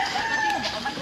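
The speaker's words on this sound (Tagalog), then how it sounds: "Manok." A chicken gives a short burst of clucking, close and fairly clear, lasting about a second.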